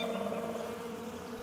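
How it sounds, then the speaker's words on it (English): Fly buzzing in a steady, continuous drone that holds an even level for about a second and a half. "Fly."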